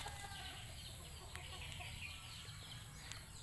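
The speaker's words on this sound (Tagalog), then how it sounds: "manok" Chickens cluck faintly in the distance over a steady outdoor hum on a farm, with a few soft, scattered calls and no one talking.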